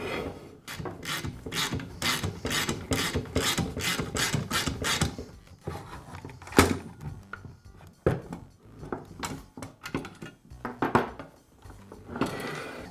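Hex wrench socket ratcheting to loosen a screw on a DeWALT circular saw during shoe assembly repair: a fast, even run of loud close clicks, then slower irregular ratchet clicks and metallic taps.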